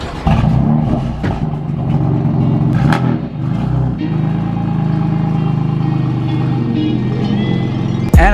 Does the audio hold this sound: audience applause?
no